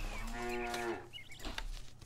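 Cows moo in a video game: a single loud, long, drawn-out low call, followed by faint background sounds and a quieter second moo.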